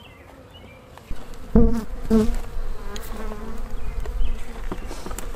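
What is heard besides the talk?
honeybees buzzing around an open hive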